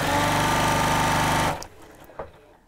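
A domestic sewing machine stitching fabric for a curved-top tote bag at high speed, a loud dense mechanical rattle running steadily, then stopping abruptly and leaving faint handling noises.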